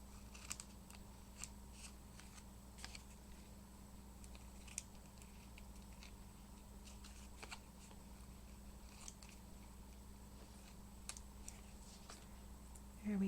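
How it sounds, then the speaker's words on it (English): Scissors snip through washi tape trimmed off a paper file folder tag, a steady run of close, crisp cuts over a quiet room hiss. "Now I'm just going to trim my washi off."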